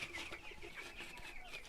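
A flock of around a hundred chickens clucks and chatters continuously inside a poultry coop on a farm in Jamaica, a dense, moderately loud layer of overlapping calls with no talking.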